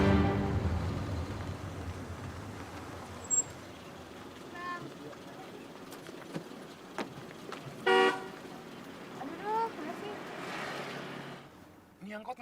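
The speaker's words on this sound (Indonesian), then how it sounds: "Nyantai aja kali, kagak usah pakai klakson" A car horn toots briefly a few times amid a busy morning street scene near a campus in Indonesia, with passing traffic and a few people talking in between.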